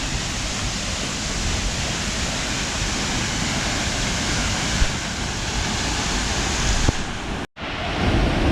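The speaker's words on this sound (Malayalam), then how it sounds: "ഇതാണ് കേട്ടോ വെള്ളച്ചാട്ടം" The Karukulam waterfall gives off a loud, steady roar of rushing water, close up and unbroken for several seconds before a brief dropout near the end.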